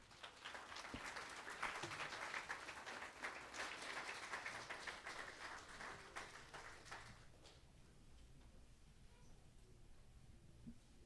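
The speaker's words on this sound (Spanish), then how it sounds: "Denle un aplauso al Señor." A church congregation applauds during a Sunday service, a dense wash of clapping that holds steady for several seconds and then fades into quieter room noise.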